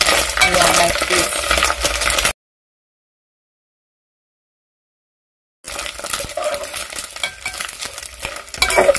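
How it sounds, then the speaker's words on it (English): Small omena fish frying in a pan are stirred continuously, loud sizzling with rapid scraping and clinking of a utensil, broken by a few seconds of silence before the frying resumes. "when the first side of your fish begins to turn golden brown, you're going to just make sure that you mix it continuously."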